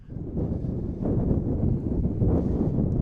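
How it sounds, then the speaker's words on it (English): Low rumbling buffeting of wind against a microphone at an outdoor high school softball game, gusting and steady throughout with no voices. "Sorry about the wind here"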